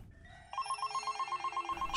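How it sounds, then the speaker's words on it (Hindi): A mobile phone rings in a tense horror-story scene, its steady repeating electronic ringtone starting about halfway in and carrying on loud and alone with no talk over it. "तभी उसका फोन बज उठता है"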